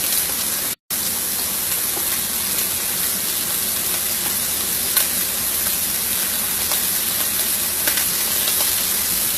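Pork chops frying in a pan, a steady close sizzle and hiss running throughout with a brief cut near the start.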